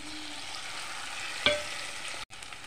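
Green chili, onion and garlic paste frying in oil, a steady broadband sizzle with one sharp splattering pop in the middle and a brief cut-out near the end.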